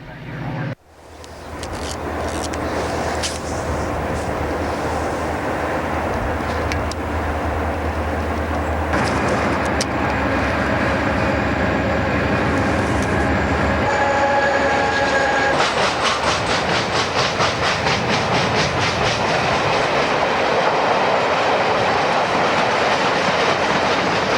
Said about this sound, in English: A southbound chassis precedes the approach of GT train number 476, arriving from the north.